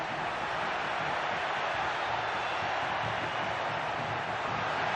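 Crowd noise from a football stadium in FC25 roars steadily and loudly throughout, a dense wash of cheering with no breaks.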